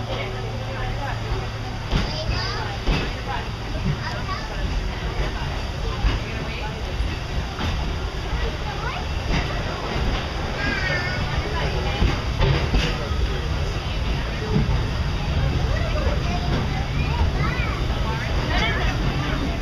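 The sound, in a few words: steam train running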